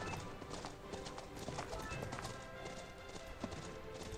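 Horse hooves gallop in a horse-riding video game, a quick, continuous clip-clop at a quiet level with no talk heard.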